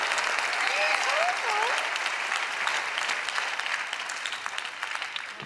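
Studio audience applause on a magic competition show, sustained crowd clapping across several seconds, loud at first and gradually thinning, with a brief vocal cry or cheer near the start.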